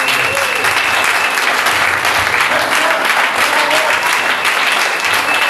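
A church congregation breaks into loud, sustained applause that fills the room as one even roar, mixed with scattered cheers and voices from the crowd.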